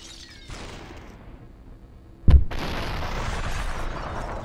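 Gunfire in the video game SuperHot: a single sharp, loud shot cracks out midway over a low background hum, followed by a sustained noisy rumble.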